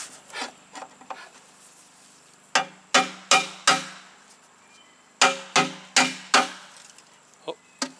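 Sharp metallic knocks from a hammer driving a rivet out of a metal elbow piece, coming in scattered bursts of two to four strikes with pauses between, close and fairly loud.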